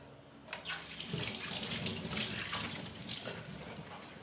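Steady running tap water splashes into a sink while bitter gourd is washed by hand, with a soft continuous rush and occasional small knocks throughout.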